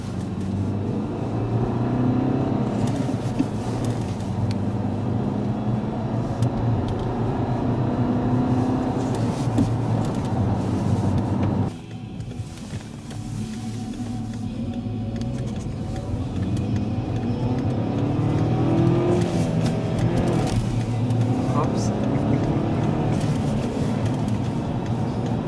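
A manual-transmission car accelerates with its engine note climbing, briefly drops off as the gears are shifted, then rises again; the rumble is close and continuous.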